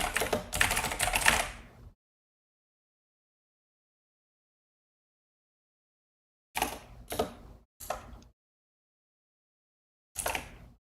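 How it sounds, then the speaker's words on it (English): Bursts of computer keyboard typing, a dense run of rapid keystrokes followed after a long silence by three short flurries, close and clear with no talk. "The keyboard sounds, yeah,"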